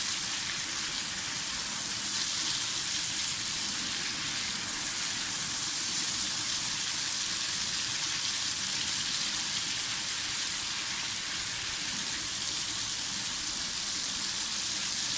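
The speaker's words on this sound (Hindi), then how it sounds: "इनके साथ वो साबुत लाल मिर्च जीरा डाल दें, इनको फ्राई करेंगे" Whole red chilies and cumin seeds fry in hot oil for a Kashmiri dum aloo tempering, giving a steady, even sizzle and crackle throughout with no talking.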